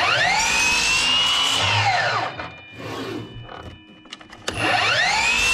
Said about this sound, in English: this is a sliding compound miter saw